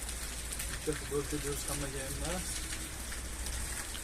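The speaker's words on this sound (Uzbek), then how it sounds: "yomg'ir mana" Rain falls steadily in a constant soft hiss that continues the whole time, while someone talks for a moment partway through.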